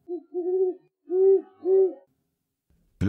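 An owl hoots in a steady series of low, rounded calls, two short hoots followed by longer ones, close and clear against a quiet background, then a brief sharp noise right at the end.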